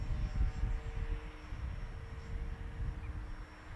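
A Durafly HobbyKing Beechcraft M35 Bonanza RC plane flying, its motor a steady, faint and distant drone that holds throughout with no talk.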